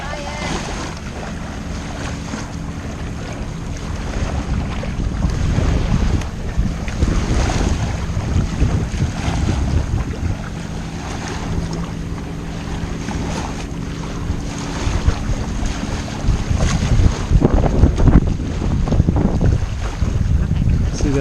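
Boats on Lake Cumberland, heard as a continuous engine drone mixed with heavy wind buffeting the microphone and lapping water, with a person talking over it.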